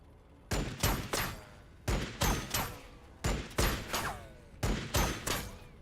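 Gunfire in the Warhammer 40K Battlesector video game comes in four loud volleys of rapid shots, each a short cluster of bangs split by brief pauses, with no speech over it.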